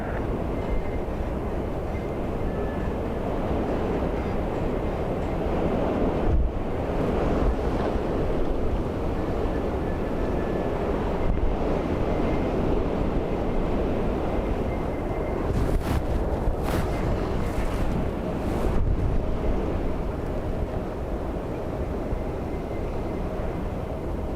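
Strong storm wind from Storm Bram roars and buffets at Dublin Airport in a continuous broadband rush, with occasional sharper gusts hitting the microphone and no voices.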